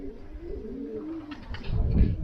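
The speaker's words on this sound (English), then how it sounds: "there the young birds now" Young racing pigeons coo in a loft, a low rolling burble that rises and falls steadily, fairly close, with a brief soft rustle near the end and no speech.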